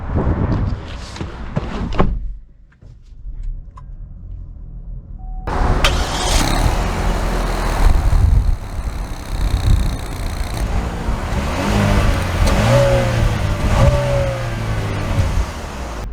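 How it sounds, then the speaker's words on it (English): A 2022 Buick Encore door slams shut after a brief quiet spell, then the small SUV starts and pulls away, its engine rising in a steady drive with road rumble close by. "So, setting off in the Buick Encore"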